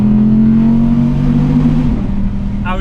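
An Audi R8 GT with a V10 engine revs on a mountain pass at sunset, a loud, close droning tone that holds steady and then falls away as the engine eases off near the end.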